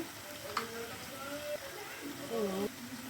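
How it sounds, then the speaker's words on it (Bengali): Cumin, bay leaf, ginger, chilli and cashews frying in hot oil in a wok, giving a steady low sizzle with stirring and a sharp crackle near the half-second mark, heard under a voice that talks through most of it. "তেল গরম হয়ে গেছে। এবার দেবো জিরে আর তেজপাতা, আদা, লঙ্কা, কাজু বাদাম, টমেটো পেস্টটা দিয়ে দিলাম।"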